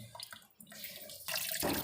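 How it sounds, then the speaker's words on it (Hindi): Water runs steadily out of the drain pipe of an LG double-door refrigerator, a continuous splashing trickle that grows louder and hissier toward the end, with no voices. "ये देखिए पानी बाहर गिर रहा है।"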